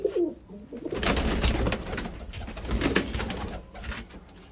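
Pigeons coo close by in soft repeated throaty calls, with a steady high-pitched hum and some rustling in the background.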